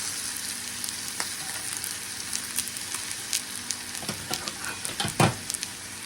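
A steak pan-fries on the stove as its fat renders, giving a steady close sizzle scattered with small pops and crackles and a louder spitting burst near the end.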